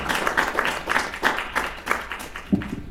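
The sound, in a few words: audience applause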